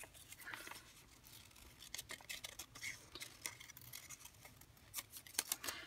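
Scissors snip through paper while a rose is trimmed for a collage, giving quiet, irregular crisp clicks and cuts at close range with no voices.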